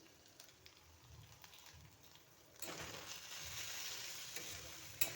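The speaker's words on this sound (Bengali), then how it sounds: "একটু সময় এগুলোকে কষিয়ে নেব।" Chili powder, turmeric and salt frying in oil in a pan, a soft sizzle that jumps to a louder, steady crackling hiss partway through, with faint stirring, quiet and close.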